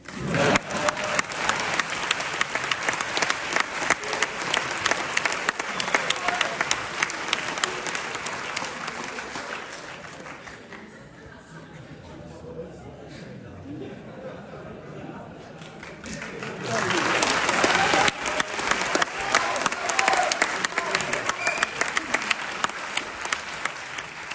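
Audience applause at a political rally in Massy, France: sustained dense clapping from a large crowd that swells, eases to a lower murmur of claps and voices in the middle, then rises again loudly.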